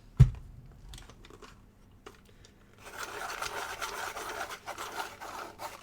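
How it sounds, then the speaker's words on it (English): A white colored pencil is sharpened, opening with a sharp knock followed by soft scratchy scraping and a denser, continuous rasping grind in the latter half, close and fairly quiet. "I'm also going to add a tiny little bit of white, which needs sharpening again"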